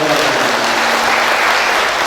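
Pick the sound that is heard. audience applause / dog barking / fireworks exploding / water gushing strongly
audience applause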